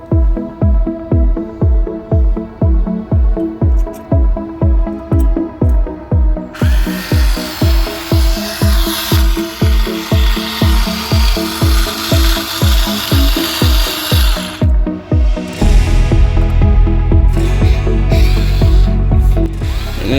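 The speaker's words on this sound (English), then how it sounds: "And this drill is working pretty good actually." A small, cheap electric drill drives screws into wood in quick repeated bursts, each whir ending in a ratcheting bite, then a longer grinding run near the end.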